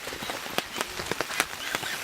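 Cold rain falling outdoors, a dense, steady patter with scattered sharper drops tapping a nearby surface, heard alone with no talk.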